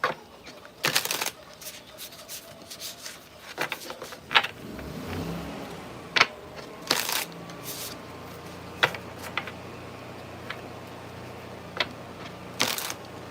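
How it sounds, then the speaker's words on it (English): A car drives very close by outside a home, a low rumbling swell rising and fading beneath a steady background hiss, scattered sharp clicks and rustles over it, with no talking. "Sounds like that car is in my yard. This sounds mad close."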